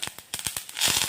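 Mustard seeds popping and spluttering in hot oil for a tamarind gravy with ivy gourd, sharp irregular pops at first, then merging into a dense crackling sizzle.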